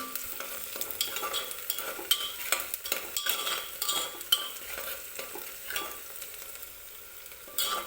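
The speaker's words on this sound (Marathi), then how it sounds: "हे बघा कांदा आपला भाजतोय" Onion fries in a pan for a spicy dry mutton dish, a low steady sizzle under repeated close scraping and clinking stirs of a spatula.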